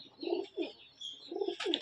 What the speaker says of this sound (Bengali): এখানে সম্পূর্ণই হাই ফ্লাইং কবুতর